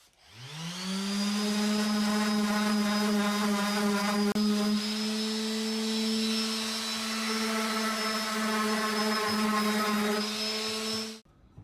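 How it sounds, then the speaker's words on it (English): An electric sander works on a mid-century modern Bassett Mayan nightstand being restored. It spins up, runs as a steady, droning whine for about ten seconds, then cuts off. "I'm just gonna skip this razor blade and use the sander"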